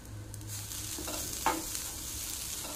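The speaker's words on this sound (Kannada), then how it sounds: "ಕೊನೆಯದಾಗಿ ಕಾಯಿ ತುರಿಯನ್ನು ಫ್ರೈ ಮಾಡ್ತೇನೆ." Grated coconut fried in a pan with a little oil, a soft continuous sizzle with occasional scraping stirs and a brief clink, quiet and steady throughout.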